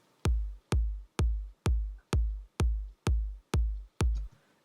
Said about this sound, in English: I have my sub kick, which sounds like this